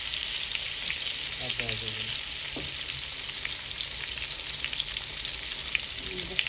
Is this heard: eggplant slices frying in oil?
yes